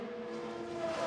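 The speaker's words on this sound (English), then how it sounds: "you just see that massive train of cars going by at speed" IndyCar race cars scream past at speed in a steady, loud, high-pitched engine drone during the 2024 XPEL Grand Prix at Road America, with no gap in the sound.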